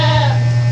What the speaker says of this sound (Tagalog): Minsan nakaka-copyright yung mga kambing na yan, kainis.